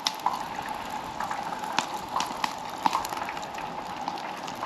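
Chicken balls fry in oil in a pot on a camp stove outdoors in the mountains, a steady close sizzle with scattered pops and crackles throughout.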